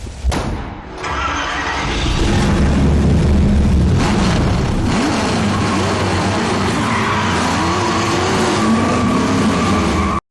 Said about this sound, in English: I love that roar of the engine.